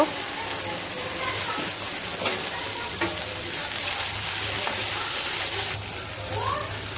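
Chopped tomato and peas fry in a pan for Maggi noodles, a continuous close sizzle with occasional stirring scrapes and a low steady hum underneath, running throughout.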